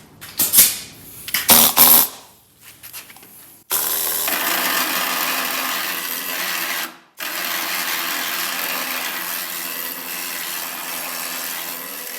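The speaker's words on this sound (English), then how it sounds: "So you guys want to see that needle scaler working?" A pneumatic needle scaler hammering rust and grime off an abandoned vintage Ford during restoration, a steady close buzzing rattle that runs nearly continuously for about eight seconds with one brief pause, after a few short clunks.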